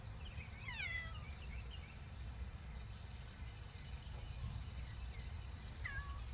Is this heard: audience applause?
no